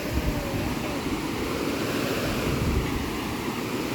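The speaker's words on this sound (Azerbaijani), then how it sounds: "Bu da dəniz şəlaləsi." Sea waves crash and churn at a seaside waterfall, a loud, dense roar of surf mixed with wind buffeting the microphone throughout.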